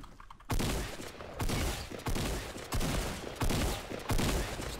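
Rapid bursts of gunfire in the Fortnite battle royale game, five or six loud, closely spaced volleys repeating about once a second, near and dominant with no talk over them.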